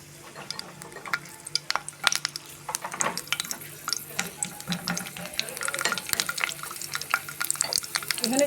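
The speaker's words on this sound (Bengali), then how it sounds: "আমি এখানে রসুনের কোয়াগুলো দিয়ে দিলাম।" Garlic cloves dropped into hot oil with cumin seeds, giving a light crackling sizzle with stirring and scraping clicks close by, building slightly louder toward the end.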